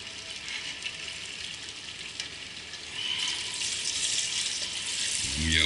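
Water is poured into a sauté pan of lamb cooking with honey and ginger, a steady close hiss and gush that swells louder about halfway through, with no talk.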